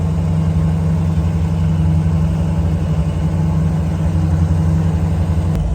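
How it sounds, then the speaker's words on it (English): A steady, low engine rumble from a Jeep CJ7 idling uphill in first gear goes on without change, constant and close, with no voices. "Idling its way up the hill."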